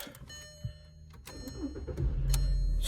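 Race car engine being started with a key: a few clicks and a starter whir, then the engine catches and settles into a loud, rough idle near the end.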